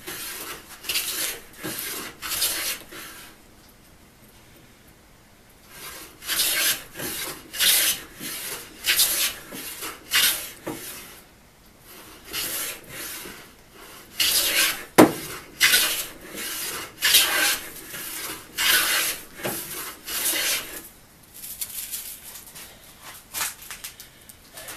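A Bailey No. 3 hand plane shaving wood in a workshop; repeated rasping strokes come in bursts, each a short loud scrape, grouped into clusters separated by brief pauses, close and without speech.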